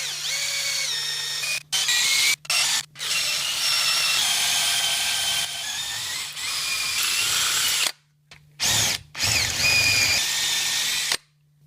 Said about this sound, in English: I tap one side so that it can be threaded to a bolt